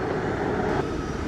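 North American Boeing 777 airliner at Montego Bay airport in Jamaica, a steady distant jet engine roar heard briefly from the ground.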